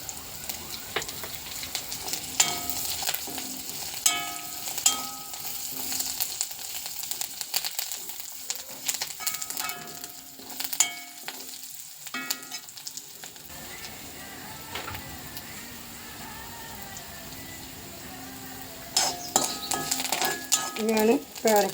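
Curry leaves, garlic, ginger and green chillies fry for guava pickle in a sizzling, crackling pan, with bursts of spatula and pot clatter and a speaking voice over the cooking.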